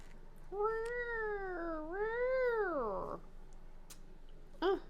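A cat meows in a long, drawn-out cry lasting over two seconds, close and fairly loud, followed by a short meow near the end; a voice is faintly present around it.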